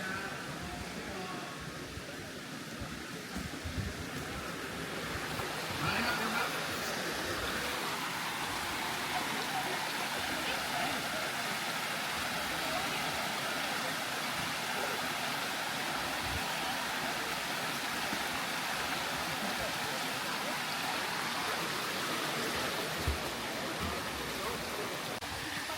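Bua Tong waterfall pours in a steady, dense rush of falling and splashing water that runs unbroken and fairly loud, with faint voices mixed into the wash.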